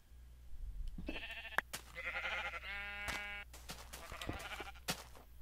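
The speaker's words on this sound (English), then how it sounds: "Stupid sheep. They can't do anything they're supposed to." Several Minecraft sheep bleat in a row, harmonic wavering baas of varying length spaced across a few seconds with short clicks between them, fairly close and with no talk over them.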